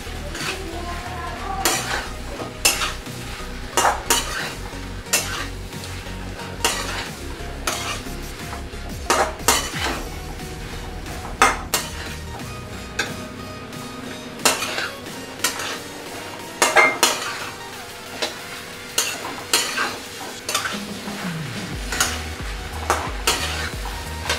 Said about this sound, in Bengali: এবার আমি ভালো করে নাড়ছি।